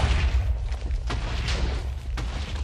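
Minecraft wither dropping explosive skulls: a low rumbling boom underlies a series of sharp blasts, roughly four evenly spaced bursts over a constant game roar.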